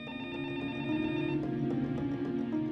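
A telephone rings with a continuous electronic ringing tone, loud and close, its pitch pattern shifting partway through and then sounding on steadily without pause.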